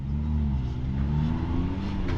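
An off-road vehicle engine held at half throttle on rough terrain at Sand Hollow State Park, a steady loud mid-pitched drone close by with no talk over it.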